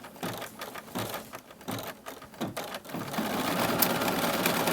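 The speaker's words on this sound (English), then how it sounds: "So you just tell the machine to quilt." A computerized quilting machine stitches a diamond design with small circles on a Kimberbell table topper, a rapid, close mechanical chatter that starts in short bursts and then settles into a steady, continuous run.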